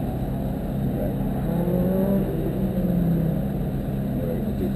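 A race car engine holds a steady, droning hum on a track, constant and moderately loud throughout with no sharp revs or pauses.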